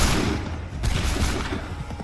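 Gunfire volley in the Assassin's Creed III video game: dense, overlapping musket shots crackle loudly and continuously, a sustained battlefield fusillade with a sharp surge near the middle and no talk over it.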